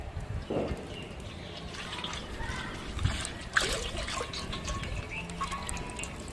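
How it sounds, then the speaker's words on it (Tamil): Cooking oil, about two litres, trickles and splashes steadily into a pan before quail are fried in an outdoor village kitchen, with a thin continuous flow throughout and a few brief louder splatters. "சமையல் எண்ணெய் 2 லிட்டர் மட்டும் ஊற்றினா போதும்"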